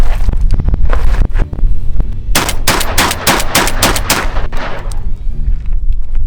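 A Turkish shotgun fires buckshot rounds in rapid succession, a loud close cluster of sharp blasts with mechanical cycling clatter between shots, then the report dies away.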